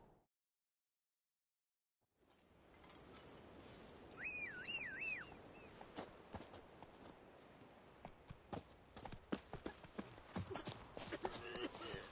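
Roach, the horse in The Witcher 3, walks with steady clip-clopping hooves after a brief silence, close and rhythmic, with a short whistle and faint speech nearby.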